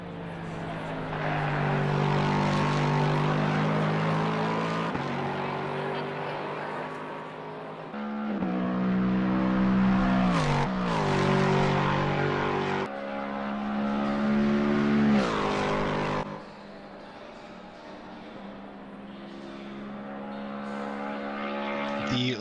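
A Lexus race car engine in a racing video game at Watkins Glen roars loudly and continuously, pitch climbing and dropping through gear shifts, with a brief lull before it revs up again.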